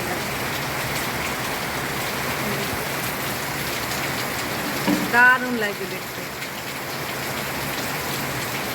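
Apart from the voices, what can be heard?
heavy rain with stormy wind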